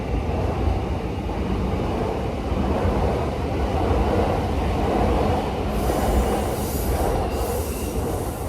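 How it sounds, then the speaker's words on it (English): Trains rumble and clatter overhead on an elevated line in Tokyo, a steady loud rolling roar with wheel squeal rising near the end, no voices. "You can hear the trains above."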